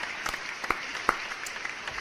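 A studio audience claps steadily and softly throughout. Scattered sharper claps stand out above the continuous patter.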